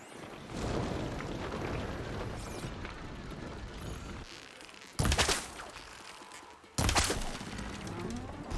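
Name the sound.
bridge collapsing in the video game Horizon Forbidden West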